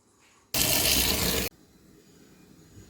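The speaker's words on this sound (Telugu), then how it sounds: "ఇది అంతా పట్టు లేకుండా శుభ్రంగా వాటర్లో వేసుకుని క్లీన్ చేసుకుందాం" Half a kilo of mushrooms being washed in water, heard as a loud one-second gush of running water that stops abruptly, followed by quiet handling noise.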